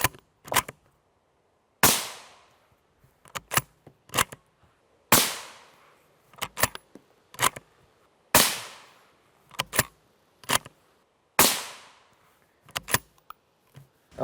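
Rifle shots of M855A1 rounds fired from a 22-inch barrel at an NIJ RF2 armor plate, sharp loud cracks in a slow irregular series, several followed by quieter secondary impacts, with quiet gaps between.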